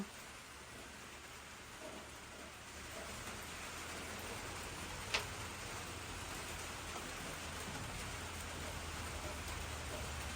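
Steady rain falls in a faint, even hiss that continues throughout, broken by one brief tap near the middle.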